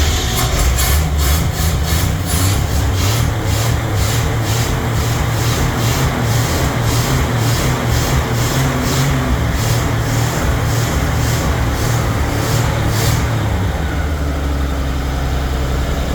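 An old van engine runs loud and steady for about thirteen seconds, its low rumble rising and falling as the throttle is blipped in a repeated rhythm, then it drops back toward a quieter idle near the end.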